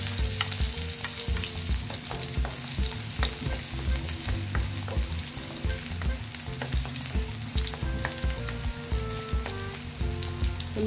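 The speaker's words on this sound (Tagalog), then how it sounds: "Magigisa tayo ng bawang." Garlic sautéing in a pan for spicy oyster adobo, a steady loud sizzle with stirring scrapes throughout, and background music with a strong beat running underneath.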